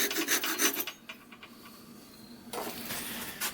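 Sandpaper rubs against a spinning wooden whistle on a lathe in short bursts of rasping friction with a quieter pause between them. Nobody talks.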